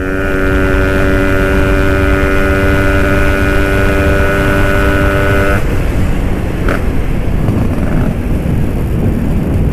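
A Vespa fitted with an IDP sprint block, port 3, revs steadily with a strong harmonic engine tone, holding a high pitch before dropping to a rougher lower rumble partway through.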